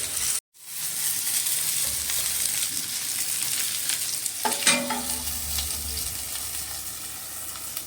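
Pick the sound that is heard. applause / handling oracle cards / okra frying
okra frying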